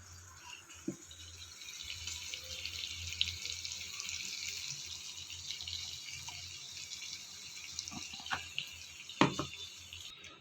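Steady running water poured into a cooking pan holding gongura (sorrel leaf) paste, with a few clinks and knocks near the end, no talking.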